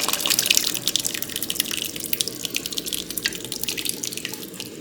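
Cooked dal is tipped into a hot tadka for dal makhani, giving a wet, splashy pour and bubbling spatter, busiest at first and then breaking into irregular sizzling pops.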